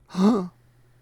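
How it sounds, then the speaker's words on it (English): A single sharp, voiced intake of breath, close and clear, cutting off quickly into silence. "you can hear them in the form of a gasp"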